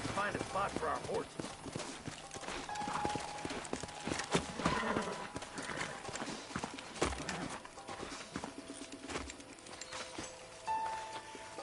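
Horses in the Red Dead video game clip-clop at a walk in a steady, uneven hoof rhythm, fairly close, with game ambience and a voice talking over them.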